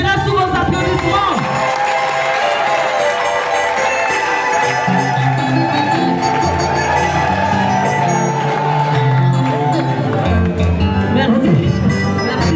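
A crowd applauds and cheers for the rapporteur at a Congolese financial workers' union gathering in Kwango, loud and continuous, with shouts and voices mixed into the roar and music playing underneath throughout.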